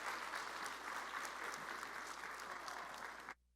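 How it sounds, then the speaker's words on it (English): Applause from a conference audience at a financial services expo as a speaker comes to the stage, a dense, steady wash of clapping that carries on for a few seconds, then stops abruptly. "So give Dale Hansen a wonderful round of applause as he comes to the stage."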